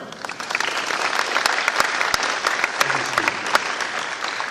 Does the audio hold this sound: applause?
yes